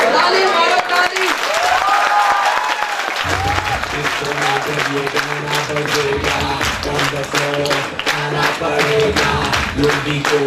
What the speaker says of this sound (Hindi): ताली मारो, ताली।